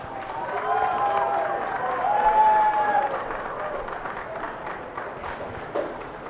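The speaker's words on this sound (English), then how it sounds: "Let's give them a big round of applause." Applause from the audience at a 4-H and FFA open dairy cattle show ringside, a steady wash of clapping and crowd noise with voices audible over it, building slightly midway and then holding.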